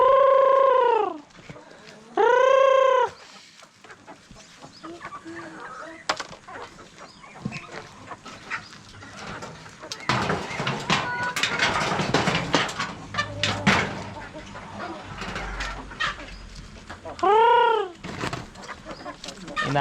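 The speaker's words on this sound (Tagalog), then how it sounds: "So guys, magpapakain din tayo sa loob tong mga puting manok natin." Backyard native chickens and ducks squabble over feed, with soft clucks, rustling and pecking close by and a few loud, bird-like tonal calls standing out at the start, middle and end.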